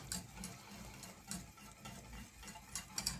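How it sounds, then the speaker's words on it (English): A hand whisk beating a lasagna sauce in a bowl, producing a soft, close, rhythmic clicking and swishing that repeats in quick regular strokes, with a faint low hum underneath. "So I'm gonna use a whisk, a hand whisk, and give this a nice mix."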